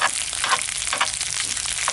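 Fried meat and macaroni sizzle and crackle steadily in a pan on a stove, a dense, continuous hiss with brief louder pops throughout.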